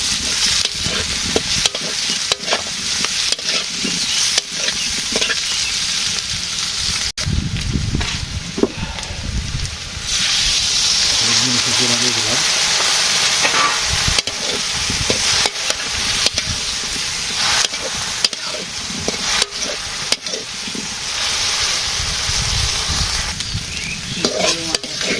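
Curry sautéing in a pan in a village kitchen, a loud continuous sizzle broken by frequent scraping stirs and utensil knocks against the pan.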